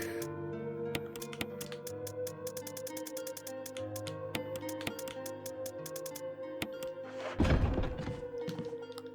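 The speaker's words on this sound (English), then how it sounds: "Reload. Chaka chaka." A handgun is reloaded in the Resident Evil HD video game: a short, heavy mechanical clack-and-thunk burst near the end, over a continuous musical score dotted with ticking beats.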